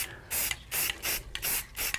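Several short bursts of black spray paint hiss close by onto a carved wooden sign outdoors, each burst about a third of a second with brief gaps between, loud and steady with no talking.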